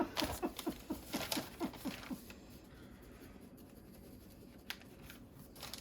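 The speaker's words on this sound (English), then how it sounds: "need to write it down" A pen scratches on paper in a Hobonichi planner, a quick run of close, rhythmic strokes for about two seconds, then quiet with a single faint tap.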